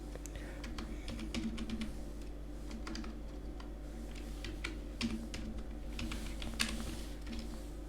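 Steady typing on a computer keyboard while entering a VLOOKUP formula in Excel, with quick clicky keystrokes over a constant low background hum, close and moderately quiet, no speech.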